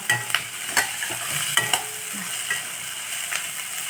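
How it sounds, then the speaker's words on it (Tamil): Capsicum sautés in a pan with butter and pepper, a soft steady sizzle broken by occasional stirring scrapes and clicks, close and fairly quiet with no talk. "கொஞ்சம் ஒரு ரெண்டு மூணு நிமிஷம் வதக்கினா வதக்கி விட்டுடலாம் அது நிமிஷம் கேப்சிகம் நல்லா வதங்கிடுச்சு"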